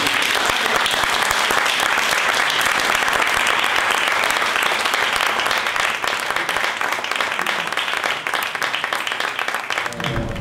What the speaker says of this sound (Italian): io farei un grandissimo applauso.